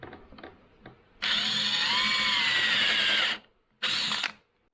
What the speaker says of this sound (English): you just drill through it